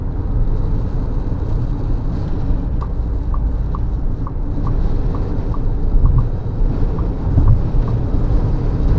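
Steady crosswind roar buffets a 2026 Tata Sierra with a 1.5L automatic engine on a road drive, a continuous low rumble with a thin repeating tick above it throughout.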